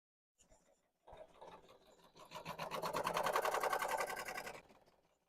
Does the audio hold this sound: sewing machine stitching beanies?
yes